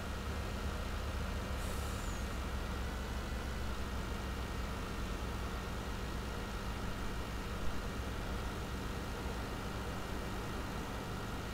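Truck in Farming Simulator 19 arriving, a constant broad engine rumble and hiss with a brief air-brake squeal near the start, steady and fairly loud with no voices.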